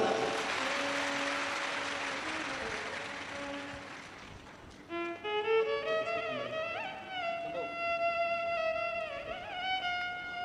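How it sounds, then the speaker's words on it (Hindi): Broadband clapping from an audience at a live Shiv Mahapuran religious discourse in Surat, Gujarat, for several seconds, then fading as loud music with sustained tones takes over. "एक बार जोरदार ताली।"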